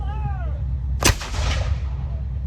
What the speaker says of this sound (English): M7 Priest self-propelled artillery vehicle